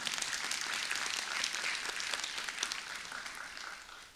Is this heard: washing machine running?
no